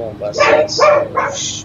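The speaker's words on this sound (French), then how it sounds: "Désolé, c'est mon chien là." A dog barks three times in quick succession close to the microphone, with someone talking in French through it over a steady low hum of an A300-600R flight simulator.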